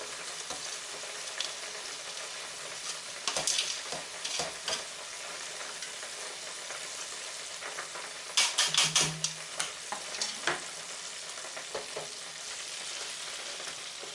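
Hog testicles fry in a pan with a steady, close sizzle, broken by occasional stirring scrapes and a louder burst of spattering partway through.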